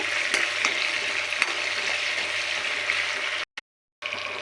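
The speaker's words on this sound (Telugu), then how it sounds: "పచ్చిమిర్చి ఎండుమిర్చి కూడా కొంచెం ఎక్కువగానే వేసుకోవాలి ఇవి బాగా ఫ్రై చేసుకోవాలిలాగా" Green chillies and dry red chillies sizzle steadily in hot oil in a pan, a dense continuous crackle with a few louder pops, then a sudden brief cut to silence before the frying resumes.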